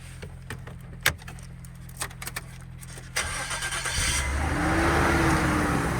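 A car at a Japanese auction cranks over and fires up; faint clicks and key rattles come first, then the engine catches and settles into a steady, fairly close idle that grows slightly louder.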